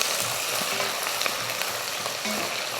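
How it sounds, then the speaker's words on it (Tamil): Sliced onions sauté in hot oil in a pan as they turn golden, giving a steady, fairly loud sizzle and crackle throughout with a few faint scrapes of stirring, and no voices. "வெங்காயத்தை நல்லா கலர் மாதிரி வரட்டும், பொன்னிறமாக வரணும் பார்த்திங்களா, அந்த மாதிரி வதக்கிக்கலாம்."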